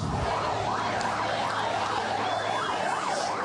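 An ambulance siren wails in a steady rising-and-falling pattern through a noisy street riot, loud and continuous over a dense crowd and traffic roar, with no speech.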